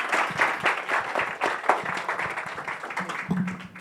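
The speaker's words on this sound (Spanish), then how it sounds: "Aplauso." Steady applause from an audience at an academic residents' medical session, continuous clapping filling the room for several seconds with no speech over it.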